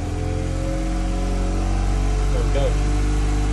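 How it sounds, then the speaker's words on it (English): A boat engine fitted with an auto choke runs at a steady, high idle rev with a constant droning hum throughout, close and fairly loud, while someone speaks briefly over it. "then we're going to get my engine started"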